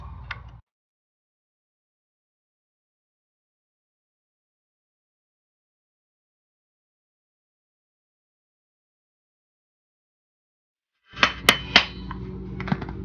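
A screwdriver handle taps the carburetor float bowl of a 2001 Yamaha R6, a few sharp, close metallic knocks in quick succession near the end, after a long silence.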